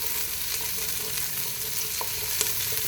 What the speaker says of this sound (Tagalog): Isosotay natin ng bawang,